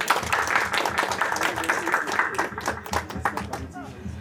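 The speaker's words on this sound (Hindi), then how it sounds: "जोरदार तालियों से स्वागत करते हैं" Applause at an official farewell and welcome ceremony for a handover of office, a dense crowd clapping steadily for about four seconds with a voice speaking over it.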